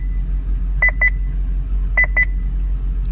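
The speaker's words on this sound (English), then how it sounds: "What's beeping is this green light here is for the radar" Radar detector inside a 2012 Chevrolet Corvette Grand Sport with a Corsa cat-back exhaust beeps in two quick double chirps about a second apart, clear and close over a low steady cabin hum.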